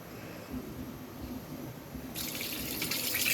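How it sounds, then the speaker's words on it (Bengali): Tap water runs steadily over shing fish being washed by hand in a kitchen sink, a soft splashing flow that turns noticeably brighter and louder partway through as the stream strengthens. "মাছগুলো আমি খুবই ভালোভাবে ধুয়ে নিচ্ছি"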